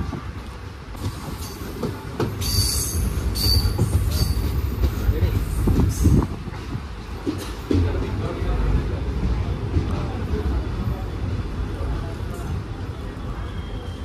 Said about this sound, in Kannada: ಟ್ರೈನ್ ಈಗ ಕಂಕೋನಾಕ್ ಬಂದು ರೀಚ್ ಆಗೈತ್ರಿ.